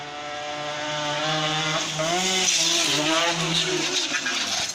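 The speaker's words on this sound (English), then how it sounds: "an exhaust note which is not to be ignored" A Yamaha RX100 motorcycle's exhaust note rises and falls through a few throttle changes, loud and close, with no talking over it.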